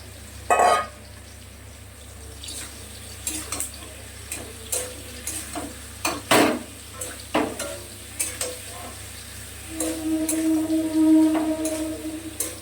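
Okra stirred and fried in oil in a pan, with a spatula scraping and clicking in an uneven rhythm over a steady sizzle that swells louder near the end.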